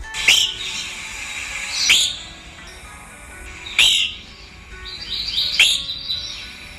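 An evening grosbeak gives four clear, sweet chip notes spaced about two seconds apart, loud and close, with nothing else around.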